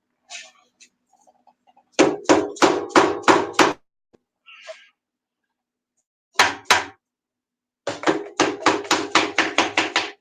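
Sharp metallic hammer blows on a pulling tractor's engine in rapid runs of five to ten, loud and close, with brief pauses and a short clatter between volleys.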